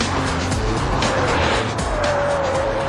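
A BMW 530i Sport is driven hard around a race circuit, its engine droning loudly and steadily close by while tires squeal through a corner, with a rising whine near the end.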